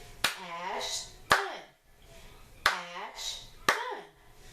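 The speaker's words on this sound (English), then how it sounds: "Clap a friend's name with me, name with me, name with me." Hand claps marking out the syllables of a name in pairs, four sharp close claps overall, each paired with a teacher's voice speaking the syllables during a large group class session.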